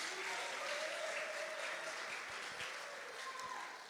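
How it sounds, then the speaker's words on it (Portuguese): Steady applause from a church congregation, fairly faint and distant, keeps a continuous wash of clapping throughout with faint voices underneath. "Então, aplaude e glorifica o nome de Jesus Cristo."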